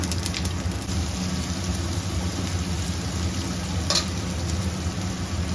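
Green chilies, ginger and salt hit a pan of soybean chunks being cooked for a vegetarian Bengali curry, producing a steady close sizzle with a low background hum and one brief scrape partway through.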